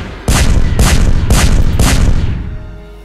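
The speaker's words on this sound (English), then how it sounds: "Bomb them a little bit more." Four heavy bombing blasts from planetary bombardment in the space strategy game Master of Orion, loud and evenly spaced about half a second apart, each a broad booming burst, trailing off into a fading rumble.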